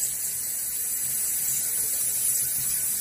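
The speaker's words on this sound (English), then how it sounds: "Let's get some cold water. I mean really cold water. Not just out of the ship. The bougie sprayer." A fancy water sprayer blasts cold water in a steady, loud hiss at a shaving setup, continuous and unbroken with no voices.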